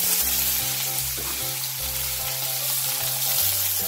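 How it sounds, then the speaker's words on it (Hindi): Mustard seeds, curry leaves, green chilli and chopped onion fry in a pan with a loud, steady sizzle that holds close and constant throughout. "सबको फ्राई कर देंगे।"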